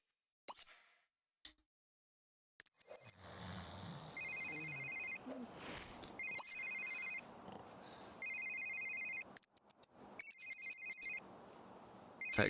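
A telephone in The Sims 3 rings in repeated electronic bursts, four or five evenly spaced trills over soft background game sounds, preceded by a couple of short plops.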